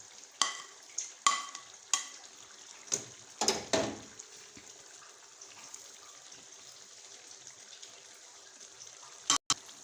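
A spoon scrapes and knocks against a pan as fried onions are stirred into fish biryani, with several sharp clatters close by, a faint sizzle underneath and one last knock near the end.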